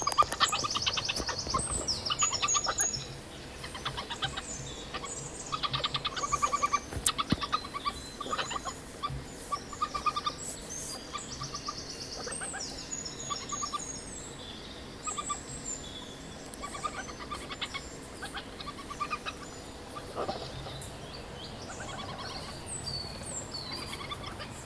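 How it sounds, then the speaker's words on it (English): Badger cubs harass their mother for food, giving a long stretch of busy, chattering and gobbling squeals and chirps, fairly close and continuous with occasional louder bursts. "This is the sound of badger cubs harassing their mum for food."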